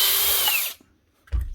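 A small power drill whirs briefly at high speed while screws on a broken power tool are tightened, spinning down after under a second, then a short low clunk follows.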